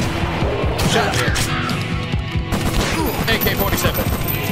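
An AK-47 rifle fires in rapid bursts in the video game Huntdown, crackling continuously, dense and loud, with a voice talking over the shooting.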